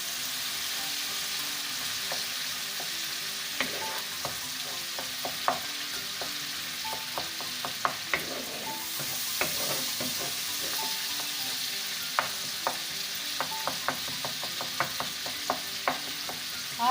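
Brain masala (bheja fry) sizzling steadily in a frying pan while a spoon stirs slowly, scattered scraping clicks and taps over a continuous hiss, with no talking.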